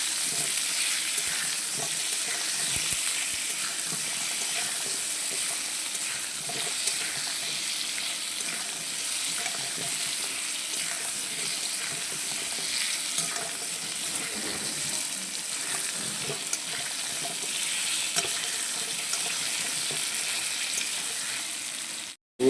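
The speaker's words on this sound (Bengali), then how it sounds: "আলুগুলো দিয়ে ভেজে নেবো লাল লাল করে" Potato pieces with turmeric frying in a pan, a steady, close, continuous sizzle that hisses evenly throughout without any talking.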